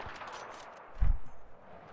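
A sniper rifle fires once in Battlefield 4 on a headshot target, a single sharp, low boom midway through an otherwise quiet moment.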